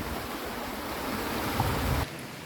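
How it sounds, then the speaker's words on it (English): Argyle Waterfall in Tobago, during the dry season, sends out a steady broadband rush of falling water that holds at an even level and then drops off abruptly near the end. "This is the waterfall here."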